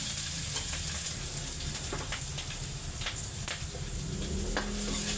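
Garlic and chili sizzling in hot oil in a pan, a steady close crackling hiss with occasional sharper pops and stirring scrapes, no talking.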